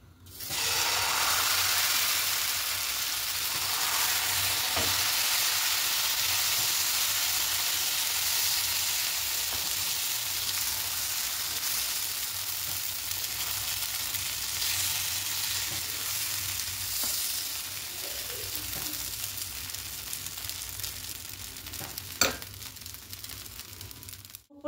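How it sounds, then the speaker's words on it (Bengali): Rice and black lentil batter cooking on an oiled nonstick tawa, a steady soft hiss of frying that slowly settles, with a couple of faint clicks, no voices. "এবার এখানে দিয়ে দেব 2 হাতা মতো ব্যাটারটা দেব"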